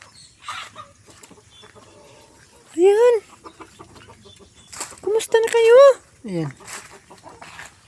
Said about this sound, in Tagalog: Manok, manok! Kumusta na kayo mga manok?